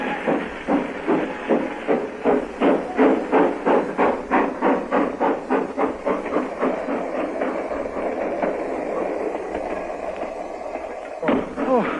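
A train chugs along the rails in a steady rhythmic beat of repeated pulses, then settles into a continuous rolling rumble near the end.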